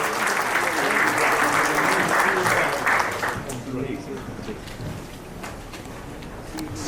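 Loud, sustained audience applause at a formal ceremony honouring a police official, dense clapping for about three seconds before thinning into scattered claps that fade toward the end.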